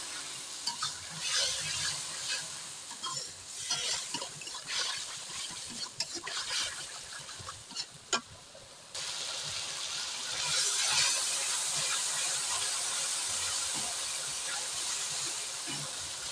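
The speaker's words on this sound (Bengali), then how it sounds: "এখন মশলাটাকে খুব সুন্দরভাবে কষিয়ে নিব।" Spice paste of ground cumin and salt sautéed in a pan, with soft scraping stirs and a low sizzle that grows steadier and louder in the second half, no talking.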